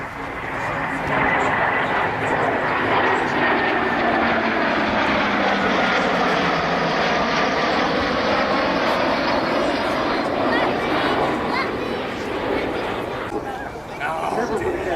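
Rolls-Royce Avon-powered jet aircraft at an airshow at Dunsfold, a loud sustained engine roar that holds steady for the whole stretch, with a slowly shifting pitch as it passes and faint talk underneath.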